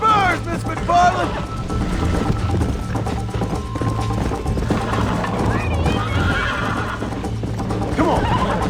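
A horse in Red Dead Redemption whinnies and gallops with steady clip-clop hooves during a race, loud and close, while people talk over much of it.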